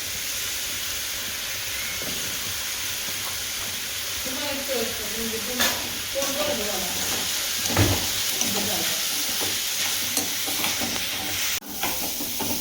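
Asafoetida hits hot oil with a continuous sizzle and hiss, joined by a few spoon scrapes, while people talk over it throughout.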